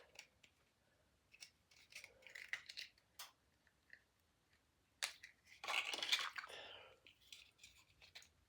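Snips cutting the top off a metal ornament for a Christmas candy jar: faint, close crunchy snips and clicks in short bursts, with a louder scraping crunch near the end.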